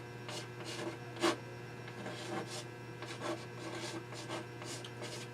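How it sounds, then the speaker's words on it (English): Worn chalk scratching across a classroom board in short separate strokes, dry raspy squeaks at an irregular pace with one sharper tap, close and fairly quiet over a steady hum. "That really is a bad piece of chalk."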